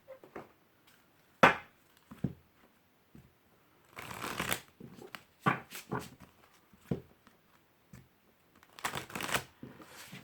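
Oracle cards are shuffled by hand in repeated bursts of crisp flicking and riffling, each separated by short pauses. Occasional taps come as the deck is squared, all close and clear with no talking.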